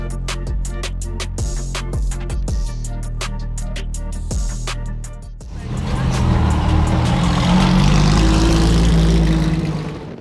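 A race car at Circuit of the Americas pushes through a hot lap, engine revving loudly through rapid upshifts with rising and dropping pitch, then giving way to a roaring, wind-heavy surge at speed.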